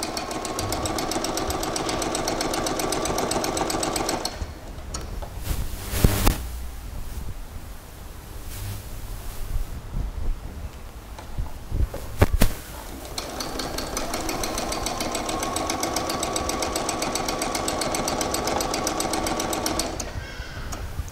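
A sewing machine stitches a short garment in long, steady mechanical runs, stops for several seconds with scattered handling knocks, then whirs on again at an even pace.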